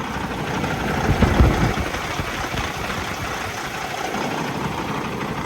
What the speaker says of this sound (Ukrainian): Працює, в принципі, звичайно, як звичайний двигун